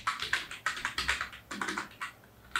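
Fingers type on a computer keyboard in quick, close bursts of clicking keystrokes, with a brief pause near the end before a final tap.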